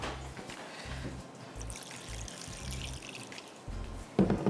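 Water is poured into a drink mixture in a glass, giving a faint, broken trickle with soft low thumps before a brighter splash near the end.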